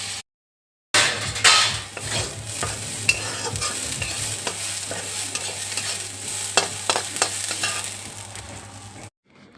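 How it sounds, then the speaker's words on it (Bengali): Basmati rice frying with tempering spices in a pan, a continuous close sizzle broken by scraping stirs and light clinks of a utensil against the pan, after a short silent opening. "ফোড়ন দিয়ে একবারে চালটাকে ভেজে নিচ্ছি।"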